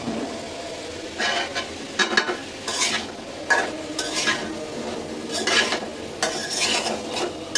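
Onions frying in oil in a wok, a constant sizzle broken by repeated scraping and clattering strokes of a spatula stirring against the metal, close and fairly loud.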